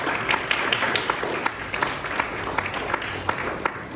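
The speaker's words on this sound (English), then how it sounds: "Can we give those two entities a round of applause?" Audience applause in a small jazz concert venue at an arts laboratory, a steady wash of many hands clapping at moderate volume with a few sharper individual claps, no talking.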